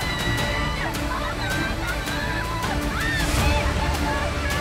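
Continuous loud roar of fast-flowing floodwater rushing down from the hills near Bhushi Dam backwaters at Lonavala, with sloshing surges, distant crowd voices and sharp whistles over the torrent.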